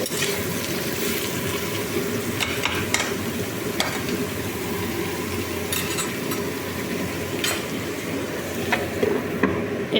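Potatoes and onions sizzle steadily in a pan, a constant close crackle broken by occasional scrapes and taps of a spatula, with no one talking.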